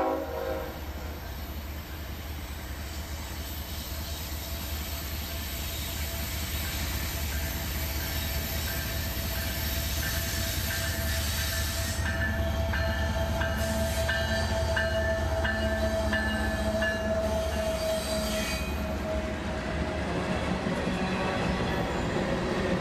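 Southbound freight train D628, about 12,000 feet long, rolls steadily past with a loud continuous roar of wheels and cars, faint squeals and tonal hums drifting through, nearby and unbroken throughout.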